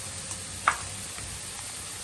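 Shrimp sizzling in a pan with salt and turmeric added, a steady low frying hiss running throughout with one brief clink near the start.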